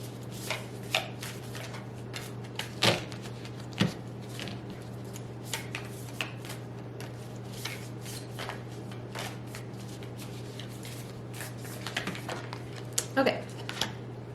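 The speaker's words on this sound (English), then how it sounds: "These cards are so pretty, but they're so hard to shuffle." Tarot cards being shuffled, their papery riffles and soft flicks repeating irregularly over a steady low hum, fairly quiet and close.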